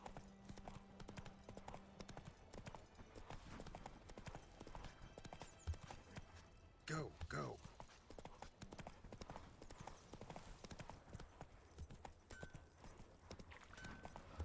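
Horse hooves in the video game Witcher 3, a steady rapid clip-clop of galloping over faint ambient sound, with a brief snort or whinny partway through and a voice speaking briefly.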